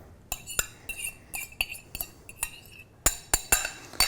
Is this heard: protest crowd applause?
no